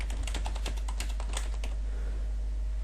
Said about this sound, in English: So what we can do is simply type over it.